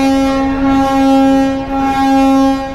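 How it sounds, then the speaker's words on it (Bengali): A passenger launch on the Barishal to Dhaka night route manoeuvres in reverse gear, its horn sounding as a loud, steady tonal drone with a deep engine rumble underneath, close and continuous throughout. "এক একটা করে ঘুরে ঘুরে যাচ্ছে লঞ্চ ব্যাক গিয়ারে"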